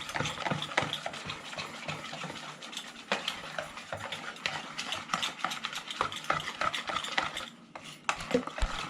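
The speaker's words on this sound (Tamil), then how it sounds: "எல்லாம் ஈவனாக கலந்துருங்க." Batter for sole fish bajji is stirred steadily in a bowl, producing continuous wet scraping and clinking strokes close to the ear.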